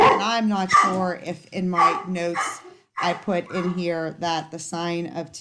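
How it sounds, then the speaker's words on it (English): A pet dog barks in the background of a home math lesson, the barks largely buried under a person talking steadily in the foreground. "Yes, excuse the barking dog."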